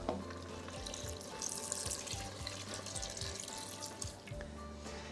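Stock pours into a pressure cooker holding onion, garlic, tomato paste and thyme for a stew, a soft continuous splashing and trickling at low volume with faint sizzling underneath.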